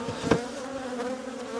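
Honeybees buzz in and around a queenless hive, a steady close drone with individual bees flying past, no talk.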